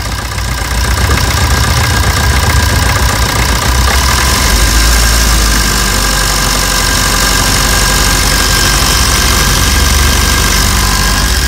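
A Maruti Swift Dzire with a timing chain problem and white smoke runs at a steady, loud drone with a rough, vibrating edge throughout, close up with no talk.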